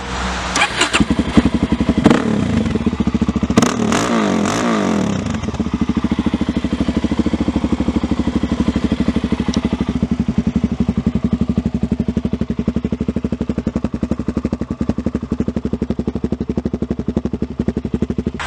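A dual-sport motorcycle with an FMF silencer cranks and fires up, gives a few quick revs, then settles into a loud, rapid, steady idle thump heard close by.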